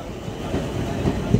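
The Karmali–Pune special express train arrives at Kudal station on the Konkan Railway, a brief close rumble of wheels with rhythmic clacking and a faint squeal.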